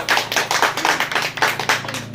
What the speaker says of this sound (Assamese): চবে ডাঙৰকৈ হাত চাপৰি হ'ব লাগিব এটা